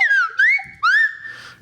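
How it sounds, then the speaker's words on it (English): A slide whistle glides up and down in three swooping phrases, bright and close, ending on a long held note with a soft breathy puff. "All right, Dave, play me out on that sweet slide whistle"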